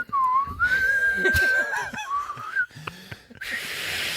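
A whistle sounds in a long, sustained wavering tone that bends up and down, set against heavy breathing and brief rustles, with a breathy hiss closing the passage.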